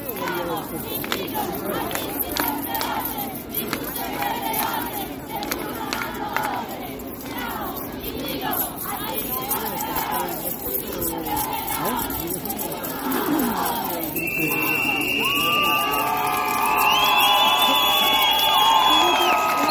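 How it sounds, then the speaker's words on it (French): A jubilant crowd at a street demonstration in Rome, with busy chatter, shouts and cheering from many people filling the air, and high whistles or cries rising toward the end. "La foule en liesse."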